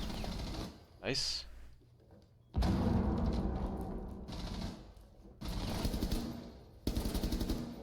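Bursts of rapid gunfire in Rainbow Six Siege come in several loud separate volleys broken by brief quiet gaps, with someone speaking briefly between them.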